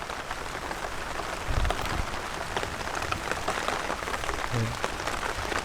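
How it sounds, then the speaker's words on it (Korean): Steady rain pours down on a wild campsite in a dense, even hiss, with a few soft thuds in between and no voices. "비가 오는데"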